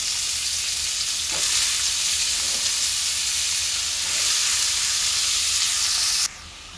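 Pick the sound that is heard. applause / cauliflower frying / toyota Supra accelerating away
cauliflower frying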